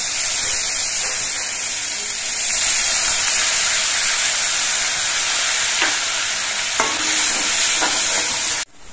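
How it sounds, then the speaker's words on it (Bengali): A paste of onion, green chili and tomato fries in hot oil with cumin seeds and is stirred for a masala rohu fish curry. A loud, constant sizzle fills the clip, with a few scraping stirs and no talk. "এবার এই মশলাটা কিছুক্ষণ কষিয়ে নিতে হবে।"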